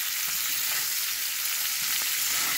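A New York strip steak searing in a hot skillet gives off a steady, dense sizzle, close and even throughout, with a few faint stirring or shifting sounds and no voices.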